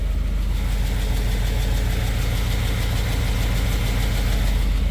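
A 2015 Ford F-150 with the Coyote V8 idles steadily up close, a low, even rumble with a faint ticking pulse running through it, no voices.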